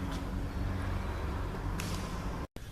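Garbage truck emptying a dumpster outside a shop: a steady loud diesel rumble with clanking and a brief hissy burst, heard at a distance, with no talking.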